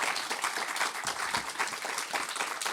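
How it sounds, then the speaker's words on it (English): An audience at a live talk with Tim Minchin bursts into loud, dense applause, many hands clapping together steadily throughout. "Round of applause for that."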